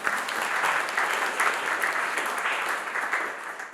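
A room applauding didgeridoo master Russell Dawson and spiritual songman Cecil McLeod at a corporate Reconciliation Action Plan launch: steady, full clapping from a sizeable crowd that holds at an even level throughout.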